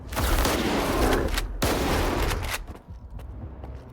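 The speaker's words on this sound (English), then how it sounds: "Shotguns are certainly pretty effective against them." Shotgun blasts in S.T.A.L.K.E.R. 2, two heavy booming shots in quick succession, loud and close, with echoing tails fading into quiet.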